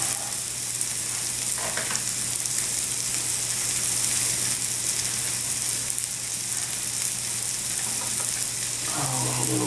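Mushrooms sizzle in a frying pan for cheese steak, a loud, steady hiss of frying that runs unbroken and close throughout, with a faint scrape near the end.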